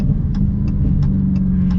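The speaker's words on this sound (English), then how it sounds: "just the gargles out of the exhaust and everything" A Dodge Challenger Super Stock, an 800-horsepower factory drag car, rumbles loudly and steadily from close by, its engine and exhaust giving off a deep low drone with faint periodic gargling pops.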